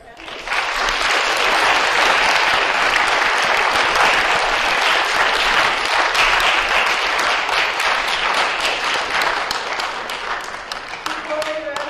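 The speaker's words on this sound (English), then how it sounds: "let's have a round of applause for our panelists" A film festival audience gives a round of applause for the professionals panel, dense and loud clapping that holds steady for several seconds before thinning out near the end.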